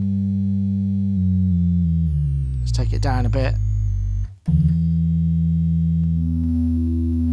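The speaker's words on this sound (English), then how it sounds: "without the wave flow, you can hear there's no interpolation" Groove Synthesis 3rd Wave wavetable polysynth drones without interpolation, giving a buzzy, stepped, aliasing tone that briefly cuts out and returns while someone talks over it.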